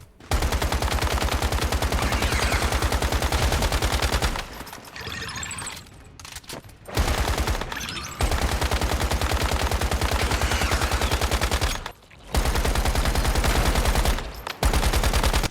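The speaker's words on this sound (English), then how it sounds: "And now we can shoot the boss." Sustained rapid automatic gunfire from a boss fight in the video game Once Human, loud and continuous in long bursts broken by a few brief pauses, with no talk.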